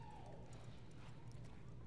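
Horse hooves thud in a steady clip-clop on the dirt of a reining arena at a championship show in Amarillo, Texas. The footfalls are faint and sit under a constant low hum.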